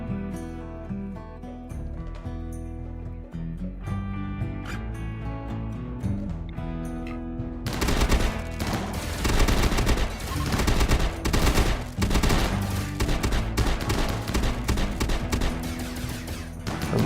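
Rapid bursts of shotgun fire in a Rimworld battle crackle over a musical score, the shots growing dense and relentless in the second half as overlapping volleys.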